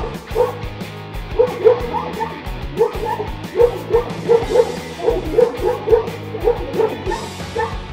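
A dog confronting a bear barks and yips loudly and rapidly in a continuous volley, close and excited, with whimpering notes mixed in.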